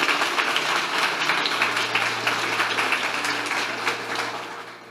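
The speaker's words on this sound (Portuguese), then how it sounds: "Aplauda Jesus então." A church congregation applauds during a Sunday worship service, a dense, steady wash of clapping filling the room and slowly tapering near the end, with a low sustained organ or keyboard tone underneath.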